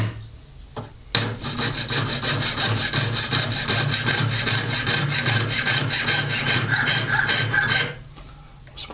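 A jeweler's saw cuts through metal sheet resting on a wooden support, a fast, steady rasping stroke rhythm that starts abruptly after a brief quiet moment and runs for several seconds before stopping.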